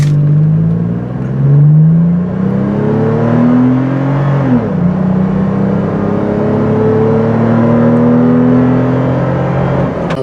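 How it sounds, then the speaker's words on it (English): A 2021 Toyota 4Runner TRD Pro accelerating hard from 0 to 60: the engine drone climbs steadily in pitch, drops sharply at an upshift about halfway through, then climbs again, loud and close with no talking. "So let's do a 0 to 60 run."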